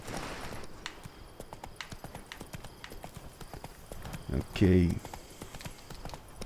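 Roach, the horse in The Witcher 3, clip-clops along in steady hoofbeats under game sounds, with a short louder burst near the end and a brief spoken word over it.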